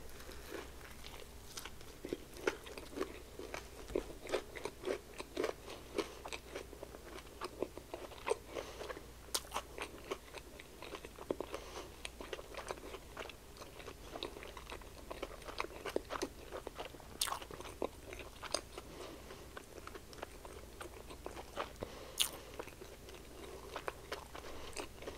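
Close, steady crunching and chewing of a Popeyes Golden BBQ chicken sandwich with mayonnaise-like sauce and no pickles, with repeated bites and wet mouth sounds running throughout and no talking.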